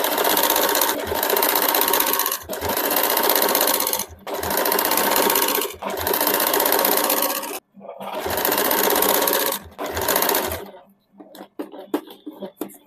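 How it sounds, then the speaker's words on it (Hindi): Sewing machine stitching the side seam of a suit, loud close whirring runs of a few seconds each separated by short pauses, ending with a few light clicks and handling sounds. "उसमें हम लोग सिलाई कर लेंगे।"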